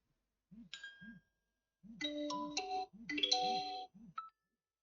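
Several short Instagram notification tones play one after another on a phone, clean chimes and ding-dong pings separated by brief pauses, with soft low taps beneath them and no talking.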